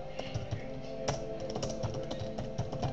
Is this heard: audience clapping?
no